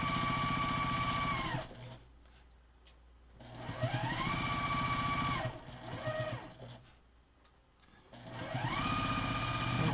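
Sewing machine stitching a quarter-inch quilting seam at a short stitch length, whirring in three long steady runs separated by brief pauses, loud and close.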